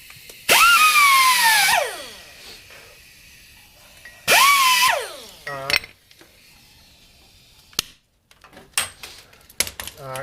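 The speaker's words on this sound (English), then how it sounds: "this is just a sandpaper wheel that's really worn out. I just want to get some of this dirt out of here" An air-powered tool spinning a worn sandpaper wheel scours dirt off a 2008 Yamaha Grizzly 660 ATV wheel bearing part in two loud, hissing whirring bursts that wind down in pitch, followed by clinks of parts being handled.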